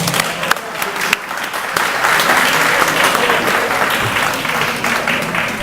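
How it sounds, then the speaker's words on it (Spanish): An audience applauds a doctor introduced before a lecture on globalization, migration and social justice; a few scattered claps build into loud sustained applause that fills the room. "vamos a empezar ya con un aplauso al doctor García Creus."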